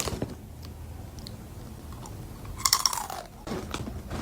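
Crunchy curls snack being bitten and chewed, a cluster of loud crisp crunches near the close, with quieter chewing before and after and no talking.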